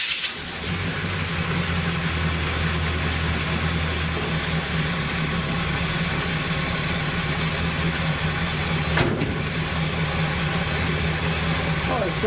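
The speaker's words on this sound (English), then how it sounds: "This thing hasn't been started in a couple of days, so let me fire this thing up." A Buick engine with a Quadrajet carburetor, not run for a couple of days, fires up and settles into a steady, loud idle that drones on with a faint hum throughout.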